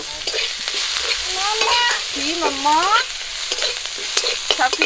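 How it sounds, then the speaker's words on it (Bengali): Chopped green chillies and onion fry in a pan with a continuous sizzle, stirred with soft scraping strokes, and a few faint tonal squeaks rise and fall midway. "একটু ভেজে নেব কাঁচা লঙ্কা আর পেঁয়াজ"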